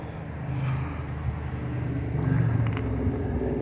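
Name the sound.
cars driving past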